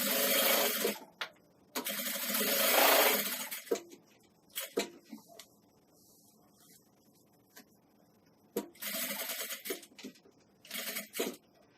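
A sewing machine backstitches over a seam on a nursing pillow, running in short whirring bursts separated by quiet pauses and small handling clicks, close by.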